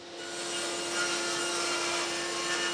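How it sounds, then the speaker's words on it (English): An MDF offcut is cut on a bandsaw, giving a steady, close, continuous sawing hiss with a constant hum underneath for the whole stretch, and no talk. "then I cut it out in the bandsaw"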